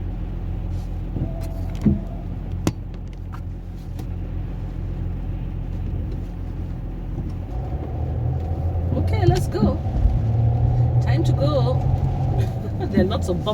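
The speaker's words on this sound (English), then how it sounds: "when school is in, there's a lot of traffic." Road traffic rumbles around a moving car during a drive, with a steady low engine and road drone that swells with passing vehicles and occasional bumps, while people talk inside the car.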